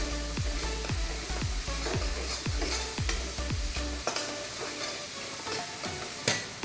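Curry leaves sautéing in hot oil sizzle steadily while a spoon scrapes the pan in a regular rhythm, close up with no voices.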